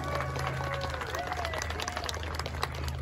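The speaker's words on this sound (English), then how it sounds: "Give Lilith a big giant round of applause" Outdoor audience at a Renaissance festival owl presentation applauds for Lilith the owl, steady dense clapping over crowd noise, with faint chirps from the bird or a whistle audible through it.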